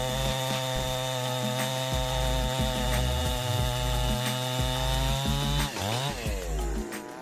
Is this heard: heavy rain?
no